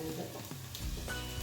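Onion, garlic and ginger sautéing in a pan for paneer butter masala, a close continuous sizzle with soft stirring scrapes and clinks, no voice.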